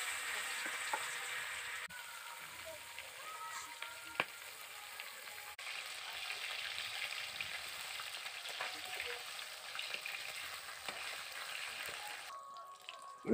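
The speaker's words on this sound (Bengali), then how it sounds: "বাদবাকি মাছগুলোও ভেজে নেব।" Pomfret fish frying in hot oil makes a continuous, soft crackling sizzle with occasional small pops, heard alone with no talking.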